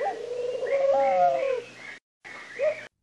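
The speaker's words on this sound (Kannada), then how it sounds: "ಮರದ ಕೊಂಬೆಯ ಮೇಲೆ ಕುಳಿತುಕೊಂಡಿದ್ದ ಒಂದು ಪಾರಿವಾಳ" A pigeon coos in soft, rolling, throaty phrases that rise and fall. The calls break off in a brief silence, then one more short coo follows, close and clear.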